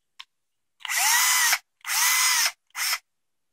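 A Bosch 12V cordless drill whirs in three short bursts, each spinning up quickly and stopping, loud and close with silence between.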